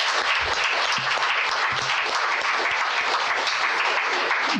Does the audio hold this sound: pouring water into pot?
no